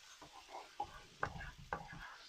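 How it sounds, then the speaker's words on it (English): Chicken stock slowly stirred into a pan to build gravy for shrimp and grits, giving faint, close stirring and scraping with a few soft clinks over a low simmer. "we'll slowly add it in and stir it as we go so that it gets incorporated and it turns into that gravy"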